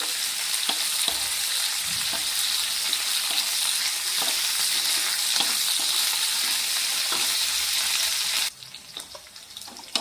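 Okra fries in oil with a loud, dense, hissing sizzle and occasional light stirring taps, steady for most of the time before the sizzle drops away sharply near the end.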